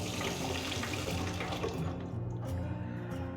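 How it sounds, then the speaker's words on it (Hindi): Water rushes steadily from an RO purifier tap after its diverter valve is turned, a close, continuous splashing flow that quiets toward the end. "जब इसको इस तरफ नीचे की तरफ करते हैं तब जाके पानी ये ऑन हो जाता है"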